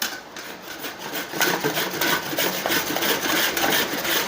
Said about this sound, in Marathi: आता गूळ घेतलेला आहे आता ही गूळ मी किसून घेणार आहे